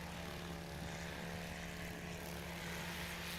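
A Helio STOL airplane's engine drones steadily at a STOL competition qualifying event, a continuous loud propeller hum with a low tonal buzz and no pauses.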